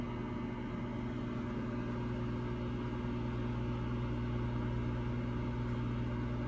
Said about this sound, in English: I'm going to microwave this thing for about 45 seconds and see what happens